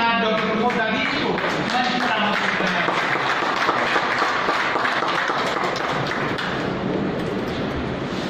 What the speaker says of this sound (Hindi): मैं आप सभी की तालियों की गड़गड़ाहट के साथ डॉक्टर प्रमोद दादी जी को